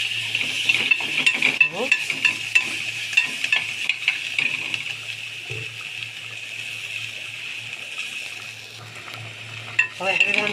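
Peppers with a spoonful of garlic are stir-fried together in a pan, a steady sizzle with spatula scrapes and stirring clatter running throughout, while a person speaks briefly near the end.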